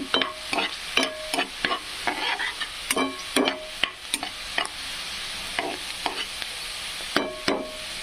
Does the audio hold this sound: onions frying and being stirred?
yes